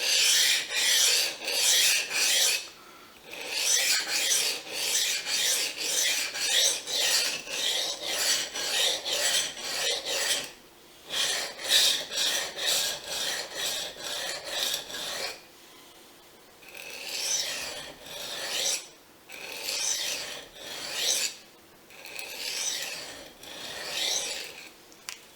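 A Fujimoto honesuki knife drawn back and forth on Japanese waterstones, repeated close rasping strokes in steady rhythmic bursts separated by short pauses, with no talk.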